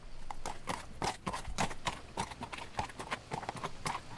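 Horse hooves clip-clop steadily at a riding pace in the video game Requiescence, a continuous, even rhythm of hoofbeats over a dense background ambience.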